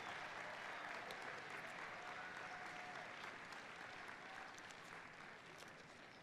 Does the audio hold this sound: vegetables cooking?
no